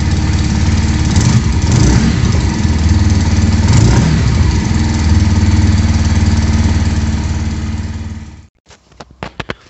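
Brixton Cromwell 125 cc motorcycle idling loudly up close with a steady, throbbing beat and slight fluctuations, then cutting off near the end, followed by a few faint clicks.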